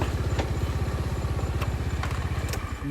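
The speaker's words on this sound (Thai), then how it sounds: "ได้ยินเสียงเสียงมอเตอร์ไซค์" A motorcycle engine putters close by in a fast, even chugging rhythm, steady and moderately loud throughout with no voices over it.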